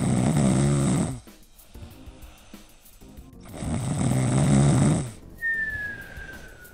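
A person snoring loudly in two long, rasping bursts separated by a quiet pause, close and dominant, ending with a thin whistle-like tone.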